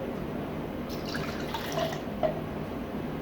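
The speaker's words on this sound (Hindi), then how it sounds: "इसमें मैं ऐड करूँगी पानी" Water trickles and drips into a small smoothie blender jar, a soft, steady liquid sound with a couple of faint plinks, close and quiet with no talking.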